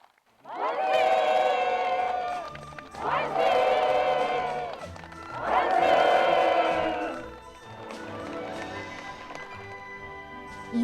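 Participants at a housewarming ceremony for new apartment homes in a fishing village applaud warmly and cheer in loud waves, with voices and music running through the crowd noise.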